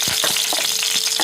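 Four dry red chillies frying in hot oil for a yogurt katla fish curry, giving a loud, steady sizzle with a few short stirring knocks spread across the clip and no talk.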